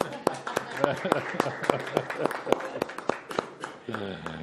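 An audience at a public hearing claps in a loose, sharp rhythm of distinct close hand claps, moderately loud, with a voice briefly starting at the end.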